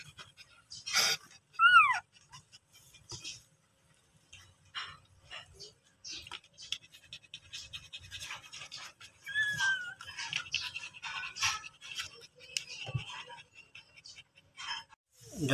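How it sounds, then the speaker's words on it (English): Five tiny newborn puppies whimper and squeak in short, high cries scattered across quiet stretches, with soft snuffling and faint panting between them. "Guys, look at these five cute puppies."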